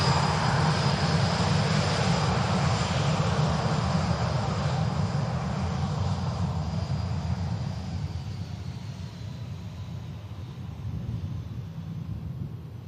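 A Tokyo Haneda departure near Manchester Airport roars loudly with jet engine noise that slowly fades and thins as the aircraft moves away.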